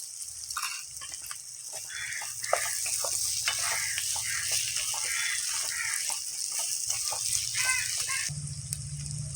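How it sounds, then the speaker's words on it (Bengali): Rice and potatoes fry in a pan for a rui fish-head muri ghonto, a soft steady sizzle with stirring scrapes beneath a constant hiss, fairly faint throughout. "আলু আর চালের সাথে আমার ভাজা হয়ে গেছে এখন আমি সামান্য চিনি দিয়ে দেবো স্বাদের জন্য"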